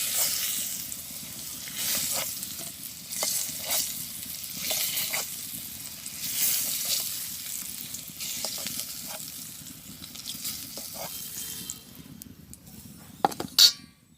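Potatoes fry in a hot pan with a steady, close sizzle and occasional stirring scrapes and utensil clinks, the sound dropping near the end.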